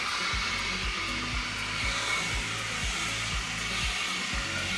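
Battery-powered leaf blowers running on their low setting and pushing leaves outdoors make a steady airy rush. A regular low thumping pulses beneath it throughout, and no one speaks.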